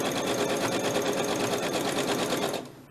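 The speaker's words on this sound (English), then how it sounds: "I'm just going around this with a straight stitch." A sewing machine runs a steady straight stitch around the outline of a small fabric heart made from scrap fabric, its rapid even needle rhythm close and loud throughout before stopping abruptly near the end.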